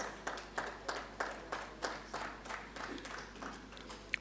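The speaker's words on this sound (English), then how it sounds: "Big round of applause." Audience applause at an education summit, a series of bursts of clapping in a quiet hall, each rising and fading at regular intervals, moderately distant and fairly soft.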